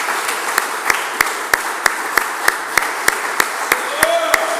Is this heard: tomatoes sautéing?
no